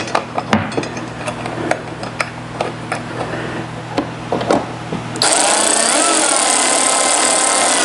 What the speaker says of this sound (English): Let's bolt that on.